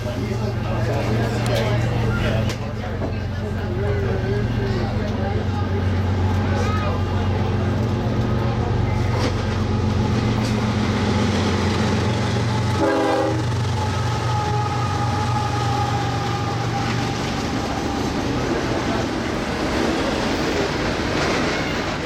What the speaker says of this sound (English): UP 1983, the Western Pacific Heritage Unit, is shoving on the rear of this train.